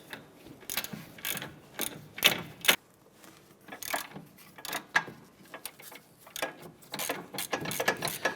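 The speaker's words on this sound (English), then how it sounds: "Using our 17mm deep socket on the back side here, there are 2 bolts." A ratchet with a 17mm deep socket loosening the rear brake caliper bolts on a 2009-2015 Honda Pilot, giving repeated quick clicking bursts in an uneven rhythm, close and fairly quiet, with no talk.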